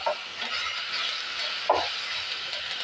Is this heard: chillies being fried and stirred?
yes